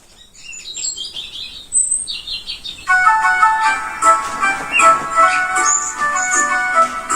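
A recording of birdsong played in a kindergarten music class, bright chirps and tweets at first, then a fuller burst of overlapping warbling calls, fairly loud and continuous.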